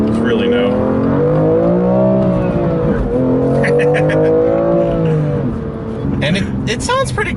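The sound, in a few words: BMW M2 engine accelerating on track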